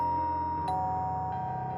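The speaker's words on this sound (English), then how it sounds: "The doorbell rang, echoing up the stairs." A doorbell chimes in a house, its two ringing tones sustained and echoing softly over a quiet background, alone without talk.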